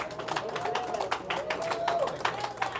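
A curling crowd at a Canada versus Scotland semi-final claps in a patter of applause, moderately distant and spread out, with a speaking voice partly over it.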